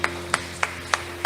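Five sharp, evenly spaced claps in a church service, ringing out over a steady background hum in a reverberant hall.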